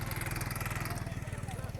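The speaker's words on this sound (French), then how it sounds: "Il y a un mec à moto, je comprends pas. Il faudrait lui expliquer que c'est une plage." A motorcycle rides on a wide beach, its engine giving a steady, fast-pulsing mid-distance drone with no lull.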